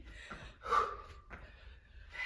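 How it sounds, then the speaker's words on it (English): Heavy, ragged breaths during an interval workout, a few loud snorting inhales and exhales close to the mic with short quiet gaps between them. "Heavy breathing."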